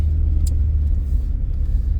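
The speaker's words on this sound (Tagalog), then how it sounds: "pag malamig daw at bagong start, medyo maingay daw talaga kasi medyo frozen yung mga liquid sa makina" A car engine idles noisily just after a cold start in extreme winter cold in Edmonton, Canada, giving a steady loud low rumble with a faint brief click partway through, with no talk.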